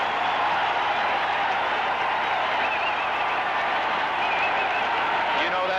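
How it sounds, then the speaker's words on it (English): Dense, steady roar of Cowboys fans cheering and applauding in a stadium at a Patriots–Dallas football game, a continuous wash of crowd noise and clapping throughout, with a voice briefly audible. "they deserve that kind of applause"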